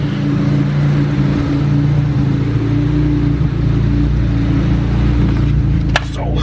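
Turbocharged stock D16 engine in a Honda Del Sol cruising on a rich mixture, a steady loud drone and rumble held throughout, with a brief sharp knock near the end.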